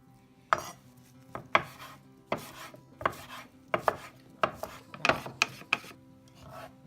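A knife slices through lettuce and herb leaves on a board for Vietnamese chicken vermicelli, in a run of sharp, close chopping strokes at an uneven rhythm with brief pauses, and no voices.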